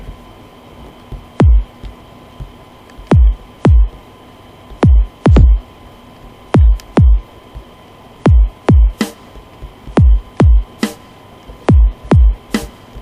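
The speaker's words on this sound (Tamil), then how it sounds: "ஓகே, இப்போ நான் சாம்பிளுக்கு ஒரு பீட் உருவாக்கிட்டேன்." A programmed drum beat built from kick, snare and tom samples in LMMS plays in a steady looping pattern of punchy hits, with deep kicks and brighter snare accents over a low electronic hum.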